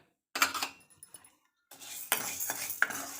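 Urad dal dry-roasting in a pan, stirred with a spoon: two bursts of dry rattling and scraping against the metal, split by a short pause, close and fairly loud, with no voices.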